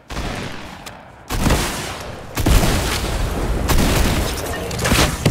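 Gunfire from players fighting each other in a Fortnite solos match, a dense run of booming shots and bursts that starts after a quiet second and keeps going loud, with faint talk mixed in.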